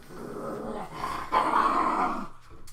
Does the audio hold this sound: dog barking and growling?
yes